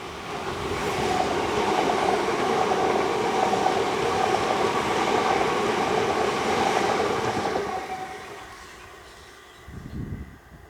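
Two coupled British Rail Class 375 electric trains, units 375828 and 375807, running on a Kent line toward Dover: a loud, steady rolling rumble with wheel and rail noise for about eight seconds, then fading as they move away.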